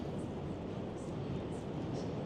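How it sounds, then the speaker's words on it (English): A New York subway train rumbles over the Manhattan Bridge in DUMBO, Brooklyn, heard as a continuous low, broad roar from a distance with no talk. "If you listen closely, you could hear the subway coming over the Manhattan Bridge"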